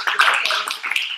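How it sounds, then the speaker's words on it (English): Employees at a holiday team meeting applaud, a dense, close, steady patter of many hands clapping together throughout. "please stand up and just give you a big applause"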